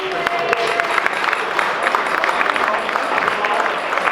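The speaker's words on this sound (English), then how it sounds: "Round of applause, please." Audience at a golf event Q&A applauding a prize winner: a steady wash of clapping from a crowd indoors, fairly loud and continuous, with faint voices mixed in.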